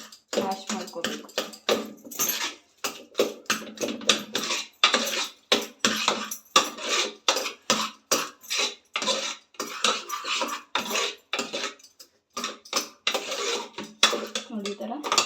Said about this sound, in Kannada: ನೋಡಿ, ಈ ಥರ ನುಣ್ಣಗೆ ನಾವು ಇದನ್ನು ಮ್ಯಾಶ್ ಮಾಡ್ಕೋಬೇಕು.